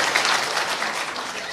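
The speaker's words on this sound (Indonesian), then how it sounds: "Boleh tepuk tangan buat semua." A brief, loud burst of crowd applause at a political forum in Indonesia, thick and continuous clapping from many hands with no voices heard.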